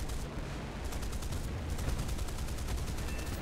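Rapid automatic aircraft cannon fire in the War Thunder combat game, a dense, continuous burst of close gunshots that keeps hammering for the whole stretch with no pauses.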